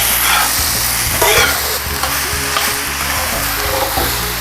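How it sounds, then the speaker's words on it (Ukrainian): Food sizzles and crackles loudly in hot oil in a cauldron, a dense steady frying hiss with occasional stirring scrapes and bursts of spattering. "Буду смажити приблизно 5-7 хвилин."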